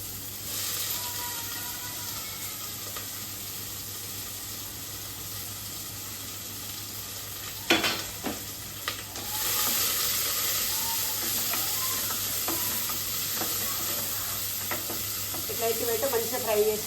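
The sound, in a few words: onions and fenugreek leaves frying in a pan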